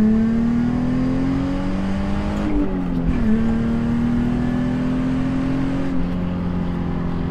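A car engine pulls at full throttle after MAF sensor and throttle body cleaning, its whining drone climbing steadily in pitch, breaking briefly around three seconds as the gear changes, then rising again loud and close.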